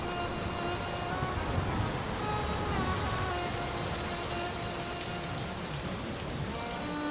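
Steady rain falls in a forest without pause, a dense, even hiss of drops pattering on surfaces, unbroken and fairly loud throughout.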